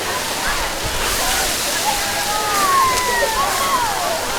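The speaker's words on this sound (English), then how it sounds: "So just notice a little bit of water that they're using," Firefighters spray water onto a kitchen fire in a demonstration, a continuous rushing, sloshing hiss of water that holds steady for several seconds, with faint voices in the background.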